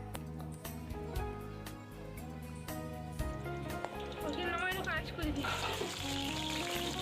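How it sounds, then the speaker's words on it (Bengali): Pointed gourd pieces fry in hot oil, a steady crackling sizzle running throughout beneath a pot-stirring clatter, with a brief speaking voice near the start. "পটলগুলোকে দু সাইডে লাল লাল করে ভেজে নেব।"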